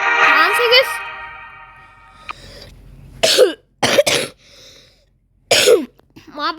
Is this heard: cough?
yes